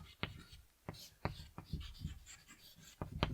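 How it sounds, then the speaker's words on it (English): Chalk or marker strokes on a classroom board as a sentence is written, a series of short scratchy taps and strokes at close range, with quiet room sound between them. "let me write another one"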